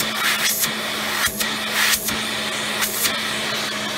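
A Rainbow D3c canister vacuum cleaner runs close by with a steady, loud motor whine and rushing airflow, with brief dips and surges as the suction shifts.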